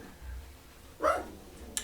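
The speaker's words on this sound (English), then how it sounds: "Apparently I need to close my dogs out here." Dogs bark outdoors in a couple of brief, sharp yips about a second apart, fairly faint and distant, with quiet background and a voice nearby.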